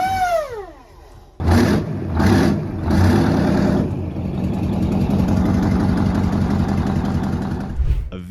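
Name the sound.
Detroit Diesel 16V149 V16 diesel engine running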